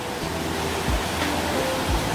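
Water roaring down the Second Yongso Waterfall in Deokpung Valley, Samcheok, a dense, steady rushing wash heard close and alone.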